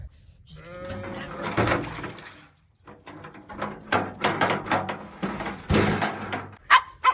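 Several sheep bleat in bursts, wavering calls overlapping nearby, with short quiet gaps between them.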